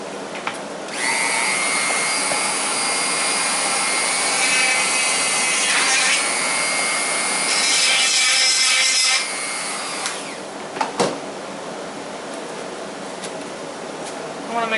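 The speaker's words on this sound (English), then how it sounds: "those holes that I marked, I'm going to go ahead and drill them." A drill runs at high pitch for several seconds, grinding through a resin blank with a steady whir, then stops, followed by a few clicks and faint handling sounds.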